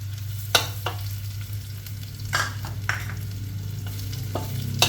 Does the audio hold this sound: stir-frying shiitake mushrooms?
yes